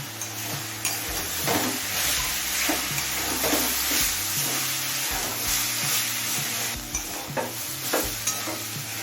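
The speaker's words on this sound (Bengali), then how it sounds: "এবার মিডিয়াম ফ্লেমে আরও কিছুক্ষণ ভেজে নেবো" Cauliflower stalks fry in a pan over a medium flame, giving a steady sizzle with intermittent stirring scrapes and clinks, moderately close and fairly quiet throughout, with no talking.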